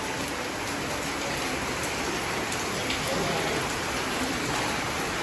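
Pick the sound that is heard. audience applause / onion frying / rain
rain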